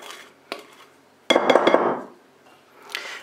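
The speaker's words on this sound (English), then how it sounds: "I'm just going to go around with my spatula here just to make sure all the sides are in" A spatula scrapes cake batter from the sides of a mixing bowl while making Easter butterfly fairy cakes: a couple of light clinks, then a close, gritty scraping burst lasting under a second, with no talk.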